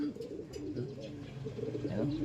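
Pigeons at a racing pigeon loft coo softly and repeatedly, close by and layered over one another, with a person's voice talking faintly in the background.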